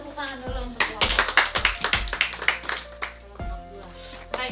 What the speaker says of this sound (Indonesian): kita tepuk tangan dulu untuk kelompok